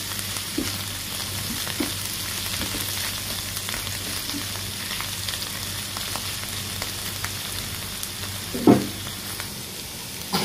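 Bitter gourd and potato fry sizzles steadily in a pan while a utensil stirs it with soft scrapes and light knocks, one sharper clack near the end, close and with no voices.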